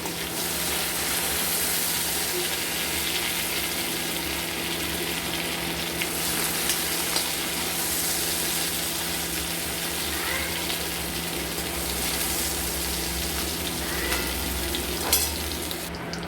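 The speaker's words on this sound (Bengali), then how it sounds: "চিংড়ি মাছটাকেও আমরা লাল লাল করে ভেজে নেব" Prawns frying in a pan until they turn red make a steady, close sizzle and hiss that runs throughout at even loudness, with faint stirring scrapes and a low hum underneath.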